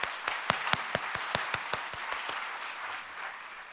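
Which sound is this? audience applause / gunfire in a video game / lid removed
audience applause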